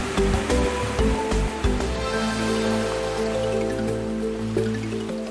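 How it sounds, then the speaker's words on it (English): A speedboat on Lake Malawi heading for Cape Maclear, its engine droning steadily at close range over rushing, splashing water, loud throughout. "A speedboat is the fastest way to travel back to Cape Maclear"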